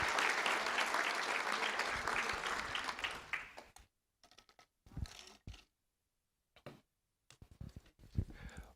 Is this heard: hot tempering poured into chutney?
no